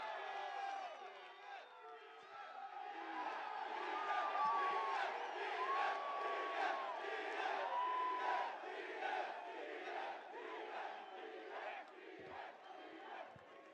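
Large crowd at the UFC 263 pre-fight press conference cheering and whooping steadily throughout, loud and sustained with shouted voices rising over the din and people talking within it.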